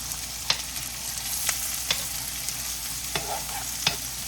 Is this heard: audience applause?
no